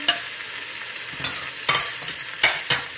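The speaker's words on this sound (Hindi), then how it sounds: "और इसको 2-3 मिनट के लिए फ्राई कर लेंगे।" Cabbage and capsicum sizzle and fry in a pan for chicken macaroni, a steady hiss broken by several sharp scraping stirs of a utensil, close and fairly loud, with no voices.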